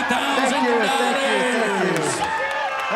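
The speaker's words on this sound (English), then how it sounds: "Everybody clap your hands." Auction crowd at the Barrett-Jackson Scottsdale collector car sale cheering and whooping after a sale, a steady loud wash of voices and shouts throughout, with no distinct clapping standing out.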